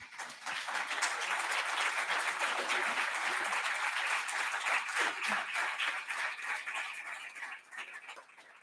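Sustained applause from a crowd, dense and steady clapping that fills the space before tapering off near the end.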